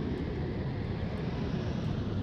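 Starship engine in Star Trek Online flying at steady cruise, a continuous broadband rumbling drone with even loudness throughout and no pauses or voices.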